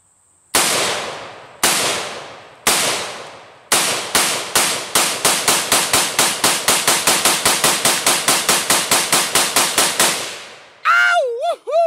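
An M4 rifle fires at a shooting range. A few spaced single shots open, then a long fast string of sharp, loud cracks that stops abruptly, followed by a brief whooping voice.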